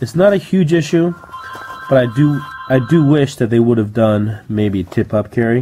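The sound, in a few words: telephone ringing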